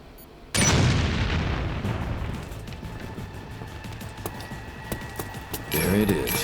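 A grenade blast in the shooter game Umbrella Corps, set in the Tricell labs: one sudden loud boom with a long rumbling tail, then a second burst near the end, with a voice talking in between.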